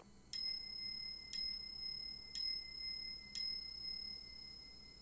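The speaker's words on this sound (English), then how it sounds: "A bell?" A bell in the horror game Pitch Black rings four times at steady one-second intervals, each strike bright and ringing with a short decay over a quiet background.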